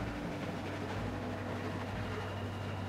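Train rolling along rails in The Walking Dead video game, a steady low rumble with droning tones and a faint rattle, continuous and fairly quiet for the whole stretch.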